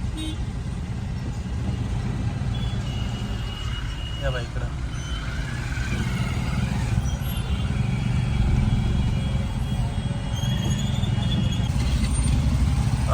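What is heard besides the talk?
traffic jam with cars and tractors at a town crossroads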